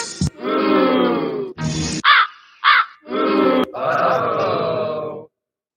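Crows caw loudly and close by, a string of six or seven harsh, rasping calls in quick succession with short gaps between them.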